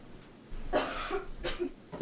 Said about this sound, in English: that cough concerns me.